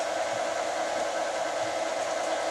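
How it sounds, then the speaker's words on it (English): Steady whirring electric mixer motor running continuously while kneading bread dough, close and even, with a constant hum and no voices. "As it starts to incorporate, you can hear the motor bog down a little bit."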